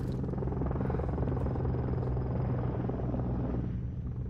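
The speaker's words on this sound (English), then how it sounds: "Here comes an Overwatch chopper." Overwatch chopper arriving in a video game, a steady loud rotor rumble and whine filling the whole stretch, easing slightly near the end, with no talk over it.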